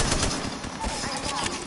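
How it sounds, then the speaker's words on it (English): Rapid gunfire from a shooter video game rattles in a dense continuous burst, sharp repeated shots crackling loudly and close for under two seconds with no pauses. "Someone shooting at you."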